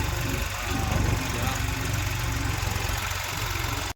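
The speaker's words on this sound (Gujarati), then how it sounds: "મિની ટ્રેક્ટર પણ આવી ગયું છે." A mini tractor engine runs steadily in a farm field, a loud, continuous low chugging drone that holds level throughout before cutting off abruptly at the end.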